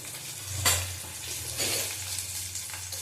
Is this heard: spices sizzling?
yes